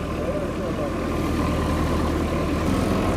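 A farm tractor engine runs steadily during a ride through a village, a loud, close, low rumbling drone that holds an even level throughout.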